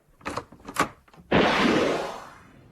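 A door opening as a radio comedy sound effect: a couple of soft knocks and clunks, then a loud broad sweeping rush that slowly fades away.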